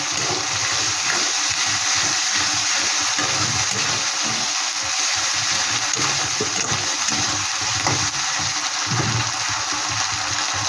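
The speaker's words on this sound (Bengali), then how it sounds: "এখানে দিয়ে দিচ্ছি লঙ্কা বাটা আদা বাটা আর দুই কর মতন রসুন বাটা এটা একটু ভেজে দিচ্ছি" Chili, ginger and garlic paste frying in a pan for an amudi fish curry, a steady broadband sizzle and hiss running continuously with no voices.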